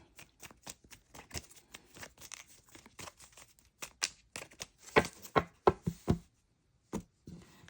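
Tarot cards being shuffled by hand, a run of crisp riffling slaps and flicks that grows louder and denser, then pauses briefly before a final few snaps.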